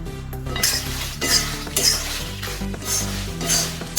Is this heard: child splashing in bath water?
no